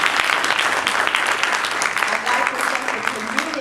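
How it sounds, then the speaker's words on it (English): Graduation ceremony audience applauding, a dense sustained wash of many hands clapping at fairly even loudness throughout, close and full with no distinct voices standing out. "So I applaud you all."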